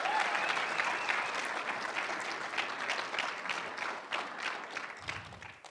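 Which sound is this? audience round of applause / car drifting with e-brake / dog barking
audience round of applause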